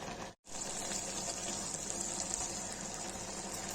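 Steady rushing water pouring continuously after a brief silent gap, a close, even gush of water poured into a pressure cooker of mushroom curry.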